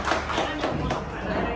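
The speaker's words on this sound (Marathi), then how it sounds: "पुन्हा एकदा जोरदार टाळ्या वाजवा मनोज दादासाठी" An audience claps at the Khandesh Gaurav award ceremony in Chakan in 2025, producing a brief, dense burst of many hands that sounds loud and close, with crowd murmur mixed in.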